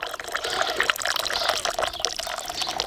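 Reinforced white stone powder mix is poured slowly from above into a vase mold, giving a steady wet splashing and gurgling that runs continuously and close.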